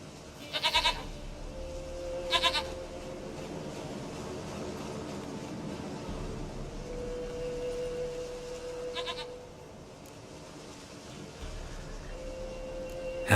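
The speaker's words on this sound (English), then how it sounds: "Goat of mine, dearest, sweetest goat." A goat bleats in The Witcher 3, loud short cries near the start and again later, over a steady ambient hum.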